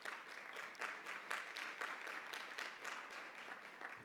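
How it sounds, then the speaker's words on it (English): An audience at a business networking session gives sustained applause, a dense, even patter of many hands clapping that sounds faint and distant, with no talk over it. "give yourself a round of applause"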